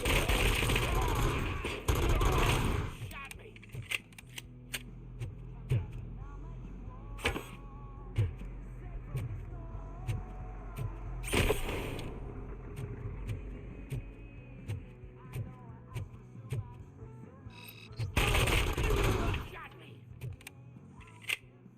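Rapid bursts of gunfire from an upgraded gun in the RoboCop: Rogue City video game, loud repeated volleys and sharp single shots spread across the stretch, with game voices between them.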